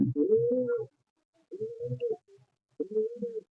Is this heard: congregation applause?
no